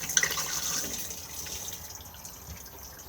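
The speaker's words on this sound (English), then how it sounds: "push to flush on the blue button just here" Flush of a caravan cassette toilet in a Bailey Unicorn Cabrera IV, a steady close rush of running water that fades gradually over a few seconds, with no voices.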